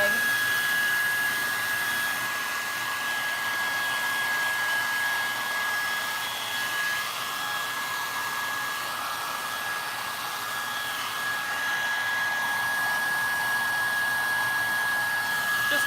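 A hair dryer runs continuously and loudly up close, blowing on wet drippy paint on a thick chair leg, with a steady airy whine that holds level throughout.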